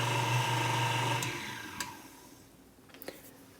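A stand mixer with a whisk attachment whips egg whites at minimum speed, giving a steady motor whir for about a second before it stops, followed by a few faint clicks and knocks in a quiet kitchen.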